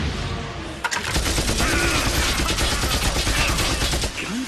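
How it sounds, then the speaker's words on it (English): A loud, rapid burst of gunfire: dense overlapping shots fire continuously for several seconds after a brief quieter start. "Gunfire?"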